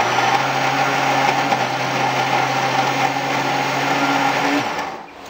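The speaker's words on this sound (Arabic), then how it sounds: "وهنضربهم في الخلاط." A kitchen blender whirs steadily as it purees red peppers with corn oil, vinegar, cumin and salt into harissa paste, a loud continuous motor drone that cuts off near the end.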